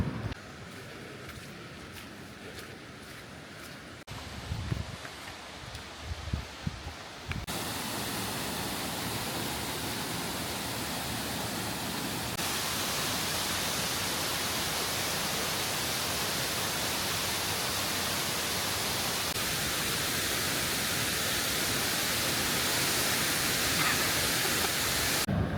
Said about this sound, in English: We're going to have a look at a waterfall.